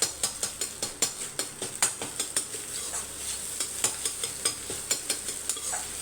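Egg and vegetable fried rice is stirred and fried in a pan, with a steady sizzle under a rapid, regular series of scraping spatula strokes. The sound is close and there is no talking.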